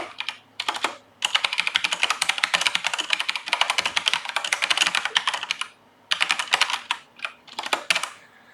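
A computer keyboard clatters with rapid, continuous keystrokes as a test sentence is typed, broken by a few short pauses and ending in scattered taps, close and clear with no voices.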